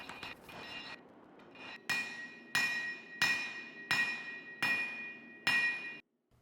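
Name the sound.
hammer forging steel stock for a chef's knife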